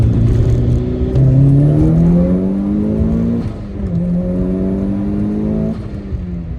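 A Mitsubishi Lancer Evolution VIII engine revs up close on a ramp, climbing in pitch as it accelerates, shifts, then pulls again with a strong rising whine.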